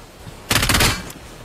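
B90 submachine gun firing a short burst in a mobile shooter game, a rapid string of close, loud shots lasting about half a second.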